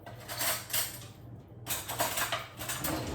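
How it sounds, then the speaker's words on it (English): Metal cutlery rattles and clinks in a kitchen as a tablespoon is pulled from a utensil drawer or holder during falafel prep, a steady jangling clatter with a short pause midway, close and moderately loud. "Let me grab a tablespoon."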